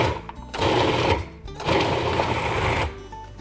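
Food processor pulsing a mixture of boiled potato, paneer and cooked dal for hara bhara kebab, in two loud whirring bursts with a short pause between, close by.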